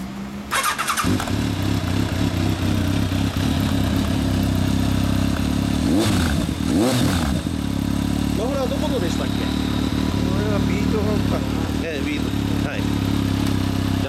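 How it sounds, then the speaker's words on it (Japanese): A Kawasaki ZRX1200 DAEG Final Edition motorcycle engine starts with a clatter and idles with a deep, steady rumble close by, with a few throttle blips and voices in the background. "じゃあエンジンを聞かせてもらっていいですか。"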